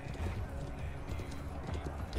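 Horse hooves clop in a steady galloping rhythm in the video game Conqueror's Blade, moderately quiet under a busy, blurred game soundscape.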